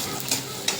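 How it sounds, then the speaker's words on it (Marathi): Chopped onion stir-fried in a pan until soft, giving a steady close sizzle with two brief brighter scrapes of stirring. "तर पूर्ण कांदा मेल होईपर्यंत त्याला असं परतत राहायचं."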